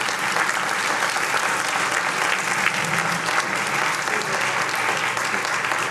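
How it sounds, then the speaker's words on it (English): An audience applauds the judges at the final round of a student entrepreneurship challenge, dense steady clapping from a roomful of people lasting several seconds. "Let's have another big round of applause for our judges."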